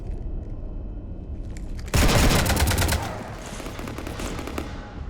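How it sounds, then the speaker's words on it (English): Sustained automatic gunfire erupts suddenly in Mass Effect 3 after a quiet stretch, a dense loud burst that gradually eases but keeps rattling to the end. "You want to stop shooting up my ship?"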